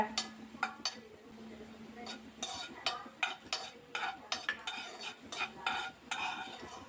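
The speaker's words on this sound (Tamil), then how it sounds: "நல்லா ரோஸ்ட் வர்ற மாதிரி வறுத்துக்கோங்க." Garlic cloves roasting in a pan for pepper rice, a soft sizzle under repeated scraping and clinking of a spoon stirring against the pan, close and fairly quiet.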